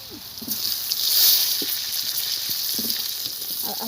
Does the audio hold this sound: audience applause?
no